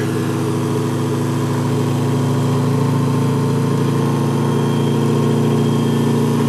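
An electric motor running on a single 12-volt battery setup hums loudly and steadily, with a constant tonal whine and vibration, close by and unchanging, with no talk.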